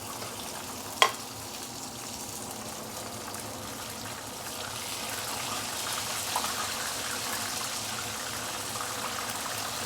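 Belacan-marinated chicken wings frying in hot oil, a steady close sizzle and bubbling throughout, with one sharp clink near the start.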